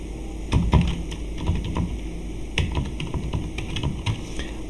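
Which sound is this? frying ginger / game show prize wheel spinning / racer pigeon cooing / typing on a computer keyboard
typing on a computer keyboard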